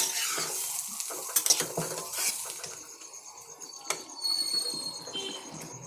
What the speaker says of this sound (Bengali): লাউ আলুর মাছের তরকারি রেডি ধনে পাতা দিয়ে দিলাম কুচুনো ধনে পাতা ভালো করে একটু মিশিয়ে নেব